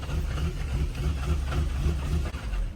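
A low, rumbling car engine idling steadily nearby, a constant throbbing drone with no talk over it.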